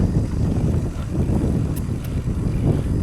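Constant wind noise buffeting close against the microphone, a low rumbling roar with no pauses throughout.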